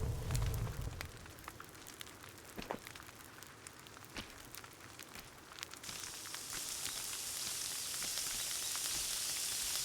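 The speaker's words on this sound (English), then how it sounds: "I never heard them sizzle before. Hear them, guys. I hear the sizzle." Steaks sizzling over a campfire in the survival game Sons of the Forest, a steady crackling hiss that starts fairly quiet with sharp pops and grows denser and louder toward the end.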